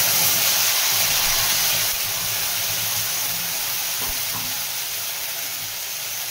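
Ground spice paste frying in oil tempered with whole cumin gives a steady, close broadband sizzle that eases slightly after the first couple of seconds, with no talking.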